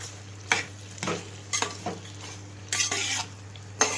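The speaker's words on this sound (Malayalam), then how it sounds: "ഇത് നമുക്ക് ഒന്ന് നല്ലപോലെ ഇളക്കാം" Beef mappas with garam masala is stirred in a pan, with repeated bursts of spoon scraping and clinks against the metal every half second or so over a low steady hum.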